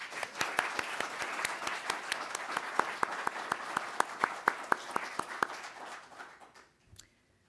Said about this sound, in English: Let's give Jackie one more round of applause.